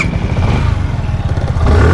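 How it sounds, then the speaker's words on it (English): A Suzuki Gixxer SF 150 BS6 motorcycle engine idles and revs up close, a steady low throbbing drone rising slightly toward the end, with no talking. "first is first, let's see the engine sound"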